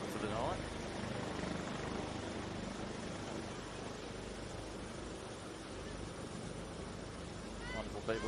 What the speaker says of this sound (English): Second visit to the helicopter for the night.